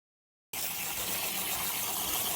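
Beans are rinsed under a running kitchen tap, a steady, close gush of water that starts abruptly after a short silence and flows continuously.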